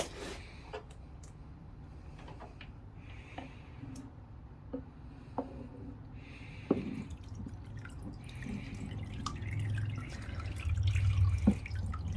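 Water dripping and trickling as an animal skull is lifted from cold maceration water: scattered, irregular drips and small splashes, quiet and close, rising into a fuller trickle near the end, with no speech.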